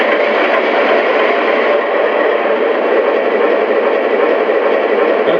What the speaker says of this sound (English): Okay, it sounds like an Alco.